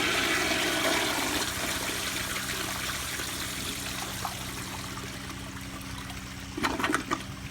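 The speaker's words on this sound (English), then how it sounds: "so here's a flush" An American Standard Afwall toilet flushes with a loud rushing surge of water that tapers into a trickling refill, with a couple of brief splashes near the end.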